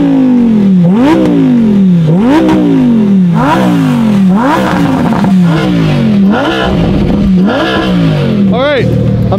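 A Lamborghini's engine revs repeatedly up and down in rising sweeps, about seven loud close pulls in a row with gear-like drops between, while a voice talks over it.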